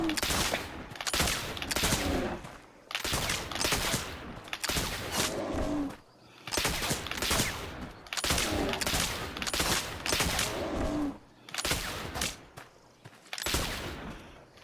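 Gunshots fired at bears in The Oregon Trail video game, a rapid series of loud repeated bursts in clustered volleys with short pauses between, no talking.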